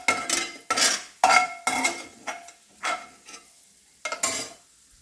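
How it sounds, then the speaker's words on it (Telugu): Paneer fries in a pan while a spoon scrapes and knocks against the metal in irregular bursts, close and fairly loud, with soft sizzling between the strokes. "ఇందులోనే మనము పన్నీర్ అనేది కొంచెం వేపుకుందాము"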